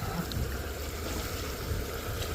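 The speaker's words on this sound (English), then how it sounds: "Sluice is running." Water rushes steadily through a gold sluice box set up for high banking. The flow is a dense, continuous wash with no breaks and no voices.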